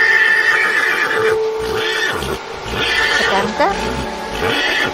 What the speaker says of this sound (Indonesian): suara kuda meringkik.